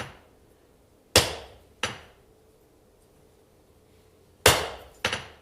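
Four sharp hammer blows on hot steel at a forge, two close strikes, a long pause, then two more, each ringing briefly and decaying, loud and near with no talking.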